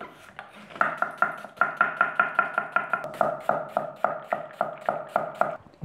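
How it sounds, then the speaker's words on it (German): A knife dices an onion steadily on a cutting board, a brisk run of evenly spaced thuds and taps close by, with no talking. "Dann habe ich noch eine Zwiebel, die schneide ich mir auch gleich in Würfel."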